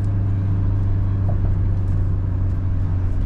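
A 2024 Toyota Hilux GR S engine revs in power mode, a steady loud low drone with a strong constant hum, holding level without talk.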